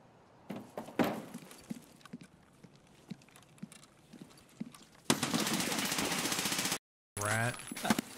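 Scattered gunshots in Escape from Tarkov, some near and some distant, popping irregularly at first. A loud, dense burst of continuous automatic fire follows, breaks off into silence, then resumes with a voice over it.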